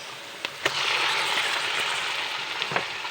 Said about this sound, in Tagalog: Ganito pag nagigisa ako, hindi ko masyadong ginagawang brown ang bawang pati sibuyas.